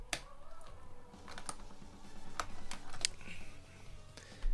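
Computer keyboard keys are pressed in a quick, irregular run of sharp clicks and taps, close and distinct, with no speech over them.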